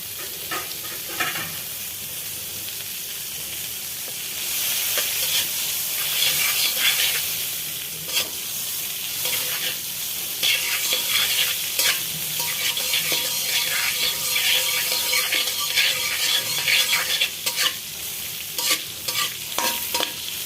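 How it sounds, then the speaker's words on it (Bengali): Butter melting and sizzling in a hot wok for restaurant-style fried rice, a continuous crackling hiss with occasional scraping stirs, close and steady with no talking. "কড়াই চুলায় বসিয়ে গরম করে নিচ্ছি এখন আমি দিয়ে দিব বাটার"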